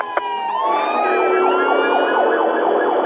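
An ambulance siren wails loud and close, its rising and falling tone sweeping steadily through a short stretch, with a brief knock near the start and no voices.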